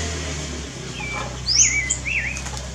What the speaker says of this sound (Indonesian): Selanjutnya kita rilis ya, uncal buau, uncal merah.